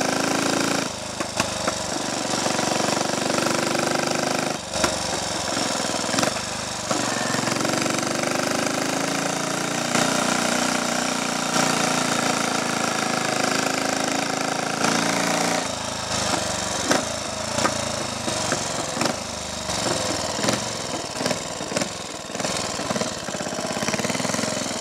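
A Triumph Tiger Cub trials motorcycle, unused for years, chugs along a Roman road on a test ride. The single-cylinder engine keeps up a loud, rough, continuous beat that rises and dips with gear changes and throttle.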